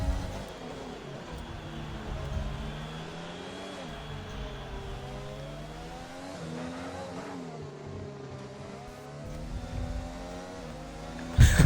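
F1 race car engines in a racing video game at Singapore scream through gear changes, pitch sweeping up and down in smooth arcs as the cars hold a steady, loud drone near the listener.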